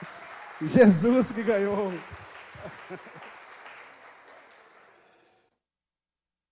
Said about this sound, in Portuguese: Jesus que ganhou, aplauda ele com todas as suas forças.